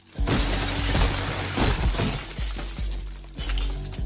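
Glass shatters loudly as a man hurls himself into a shelf during a brutal fight scene in Fight Club, followed by several sharp thuds and crashes of breaking glass and impacts over about four seconds.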